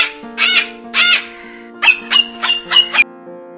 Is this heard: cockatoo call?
yes